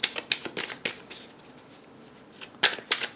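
Tarot cards are shuffled by hand at close range in a series of quick riffling bursts, a pause in the middle, then more brisk flicks and slaps of the deck.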